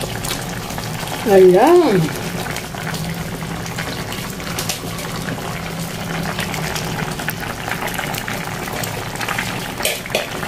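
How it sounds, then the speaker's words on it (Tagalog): Mung bean soup (monggo) with dried dilis simmering in a pot, a soft continuous bubbling under a brief spoken exclamation near the start, close and steady. "So, pakuluin lang natin sandali"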